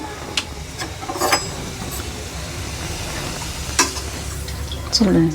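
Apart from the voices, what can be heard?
testing hot oil for frying ragi murukulu, sizzling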